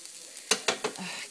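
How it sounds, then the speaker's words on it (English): Brussels sprouts sizzle in a hot pan with a few sharp stirring scrapes, close and fairly quiet. "You hear that sizzle sizzle on my Brussels?"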